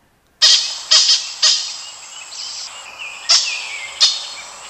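A loud series of harsh, squawking Luzon hornbill calls, five or six sharp bursts with short gaps and a hoarse trailing tone between them.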